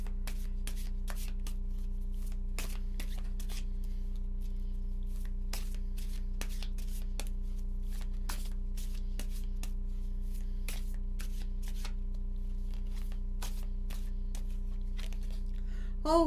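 Oracle cards from a 52-card deck being shuffled over and over, close and quiet, with repeated soft riffling bursts at an irregular rhythm over a steady low hum.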